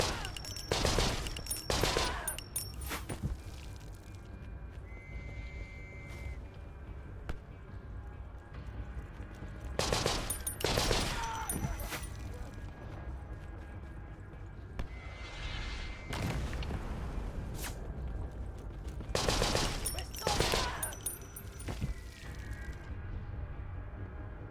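Machine-gun fire in the shooter game Conscript, heard as several loud bursts of rapid shots spaced through the stretch, with quieter game ambience between bursts.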